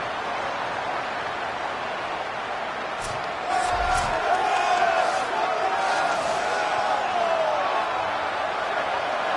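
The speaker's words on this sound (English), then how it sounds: "Listen to this crowd just shaking the girders of this place, trying to help their defense." In the College Football 27 video game, a stadium crowd roars during a defensive play, a steady, distant wash of noise that rises and swells partway through, with a few sharp thuds.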